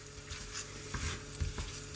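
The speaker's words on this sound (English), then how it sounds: "fry up our mince. So the only thing we will be doing is, well, basically breaking up our mincemeat into small little pieces" Lamb mince frying in a pan hisses and sizzles steadily, with soft scraping and tapping as a utensil breaks the meat apart, close by and with no talking.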